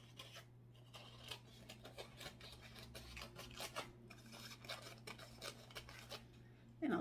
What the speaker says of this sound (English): And just cut this bit out.